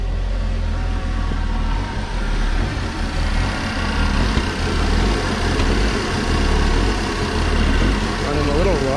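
A 2011 Saab 9-5 idles roughly just after starting, a steady, slightly uneven low engine rumble that continues close by for the whole stretch with little change.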